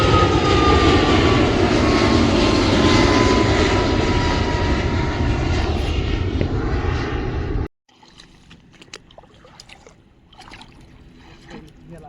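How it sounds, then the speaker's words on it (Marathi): A loud, roaring airplane engine drones steadily overhead near an airport for several seconds, then cuts off abruptly, leaving faint rustling and scattered small sounds. "समोरूनच आला बघा आपला विमान"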